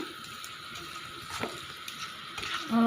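Prawns frying in oil for a Kerala-style chemmeen roast, stirred around a pan, giving a soft continuous sizzle with light scraping and stirring clicks, a sharper hiss rising at the end.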